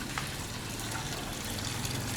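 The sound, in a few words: garden waterfall running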